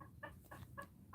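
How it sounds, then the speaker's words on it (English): A rooster clucks and crows in short bursts, about three rhythmic calls over a second, fairly near and clear in a quiet outdoor setting. "just my rooster singing"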